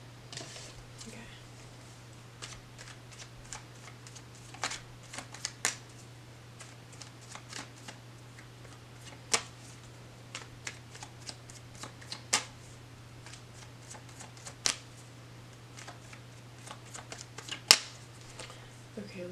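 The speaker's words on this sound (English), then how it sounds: "last shuffle" Tarot cards being shuffled at length, with soft scattered riffles and light taps over a steady low hum, some louder snaps now and then, no talking.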